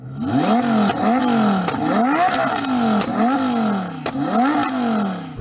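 A modified sports car engine revs repeatedly around 2,500 RPM, loud and close, in about five rising and falling pulls with a rough, raspy exhaust tone.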